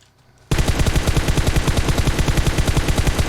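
Gunfire erupts in the video game PUBG Mobile, a sudden loud, rapid automatic burst of evenly spaced shots that runs unbroken after a quiet start.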